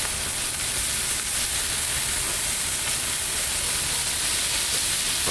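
Butter and pasta sizzle on a flat-top Blackstone griddle, a steady, dense hiss running evenly from start to finish with no talk over it.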